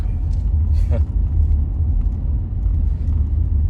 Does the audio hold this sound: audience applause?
no